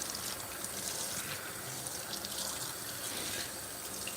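Tap water runs steadily onto the bottom of a cooking pan to rinse off stuck-on food, making a soft continuous hiss and splash that stays close, even and fairly quiet throughout, with no talking.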